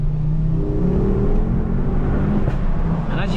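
A stage 2 tuned Mk2 Ford Focus ST engine blipping through heel-and-toe rev matching, a close, loud mid-pitched drone whose tone rises and falls over a few seconds, heard alone without talk.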